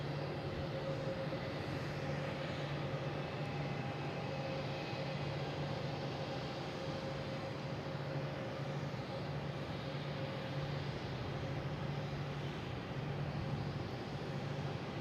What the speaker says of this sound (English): We have a JetBlue coming in from Hayden, A320, flight 2628, landing on